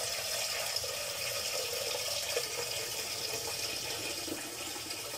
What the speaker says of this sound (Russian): Так, сейчас наберу воды.